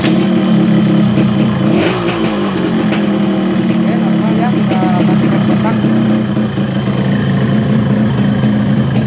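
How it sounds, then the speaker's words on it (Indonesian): A Yamaha RX-King motorcycle engine runs loudly close by, revving up once early then settling into a steady idle, with some talk faintly underneath. "sekarang kita tes motornya hidupkan hidupkan dulu motornya"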